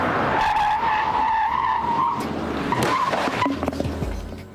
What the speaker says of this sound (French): Un pilote inexpérimenté tente à freiner trop légèrement et trop tard.